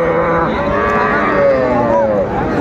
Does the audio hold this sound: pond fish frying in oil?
no